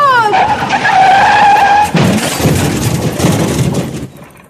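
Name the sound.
sound effect of bicycle skidding and crashing into lorry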